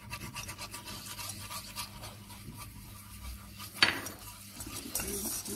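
Flour being whisked into melted butter in a pan for a potato and chicken gratin sauce, with light metal scraping and clinking of the whisk against the pan and one sharper clatter, close and quiet.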